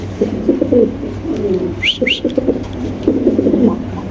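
Spanish pigeons cooing in a series of low, throaty, rolling calls close by, with a short higher chirp heard midway.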